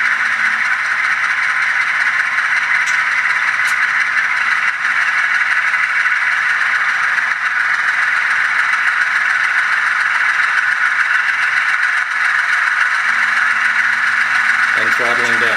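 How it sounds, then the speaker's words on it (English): HO scale M420 model locomotive's decoder plays a diesel prime mover throttling up, a loud, unbroken rattling engine drone that holds steady for about fifteen seconds with no speech over it. "And finally the prime mover throttling up."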